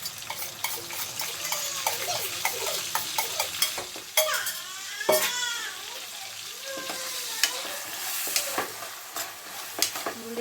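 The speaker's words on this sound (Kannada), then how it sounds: "ಹುರುಳಿಕಾಳನ್ನು ಚೆನ್ನಾಗಿ ಫ್ರೈ ಮಾಡ್ಕೋಬೇಕು" Sprouted horsegram fries in a pan, a continuous sizzle punctuated by frequent stirring scrapes and occasional clinks of a utensil against the pan, heard up close with no speech.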